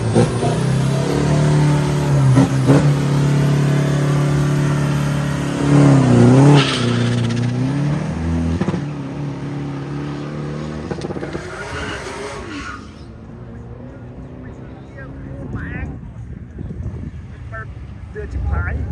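Race car engine revving during a tyre test at an early-morning car meet with coffee, loud throaty revs that surge and drop in bursts, then fade away, with people talking nearby.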